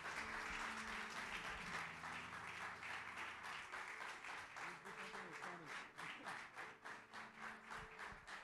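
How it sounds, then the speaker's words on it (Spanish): A church congregation clapping loudly and continuously, with music or voices faintly underneath the applause. "Dr. Bishop Lovelace St. John, con un fuerte aplauso"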